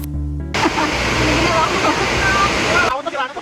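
Baggao's Blue Water Falls pours into its main pool, a steady, close broadband roar of falling water that cuts off abruptly near the end.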